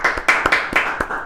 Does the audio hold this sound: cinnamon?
no